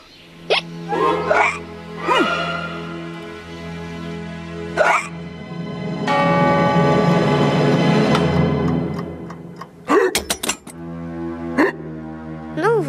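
A person hiccups repeatedly, sharp short gulps spaced a second or two apart, close and fairly loud, with a steady humming background in the middle and a quick cluster of hiccups near the end.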